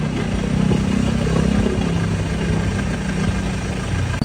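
A new motorcycle idles nearby in Marikina, a steady, loud, low engine throb with an even mechanical patter that holds unchanged for several seconds, with no talk over it.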